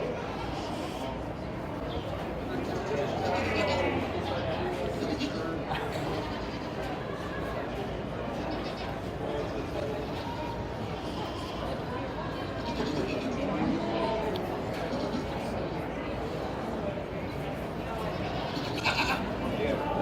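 Goats at a goat show bleat repeatedly through a steady crowd hubbub, with people talking throughout and the calls partly masked by voices.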